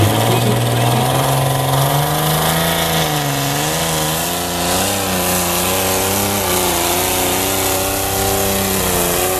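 A loud, heavy tractor engine labors under strain at a tractor pulling contest, dragging a sled, its drone rising and falling in pitch as it pulls, continuous and close throughout.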